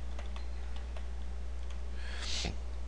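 Fingers tap a computer keyboard while typing into a browser's filter field, with sparse, light key clicks close by and a brief clatter of quicker strokes near the end over steady low hum.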